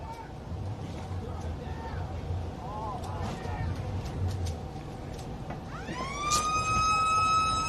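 At a country football grand final, a long wailing siren sounds across the ground for the end of play, rising and sustained, with crowd murmur and people talking underneath.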